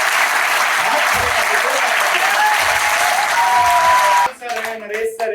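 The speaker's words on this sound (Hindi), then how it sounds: "तो एक बार मैं जोरदार तालियां चाहूंगा" A crowd at a meeting breaks into loud, sustained applause for about four seconds, then it stops abruptly and a voice starts talking.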